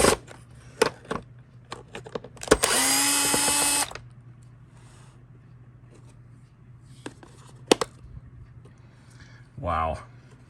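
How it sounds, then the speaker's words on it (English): A power drill whines in a loud burst lasting about a second, backing screws out of a Rainbow SE vacuum, with a second shorter run near the end amid clicks and handling knocks. "Now I'm just going to pull these two screws out so we can continue pulling this apart"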